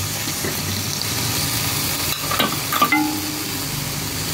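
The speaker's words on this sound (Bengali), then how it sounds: "কই মাছটাকে ভেজে নিচ্ছি।" Koi fish frying in a pan for a potato, pea and tomato bhuna, a steady soft sizzle with a few stirring clatters near the end, no talking.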